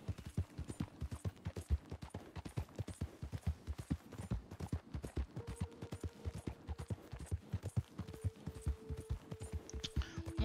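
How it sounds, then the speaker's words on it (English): Horse hooves clip-clop steadily in a quick, even rhythm while riding in Red Dead Redemption 2, close and continuous throughout, with a faint tonal hum and occasional game sounds layered behind. "traveling by on horse"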